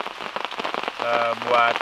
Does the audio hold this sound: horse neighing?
no